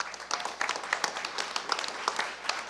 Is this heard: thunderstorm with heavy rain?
no